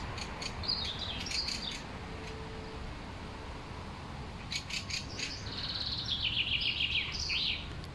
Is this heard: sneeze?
no